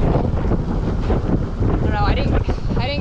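Strong Monte winds gusting around 30 knots at a beach where a sailboat is anchored batter the microphone with loud, rough roaring buffets, and a voice briefly calls out near the end.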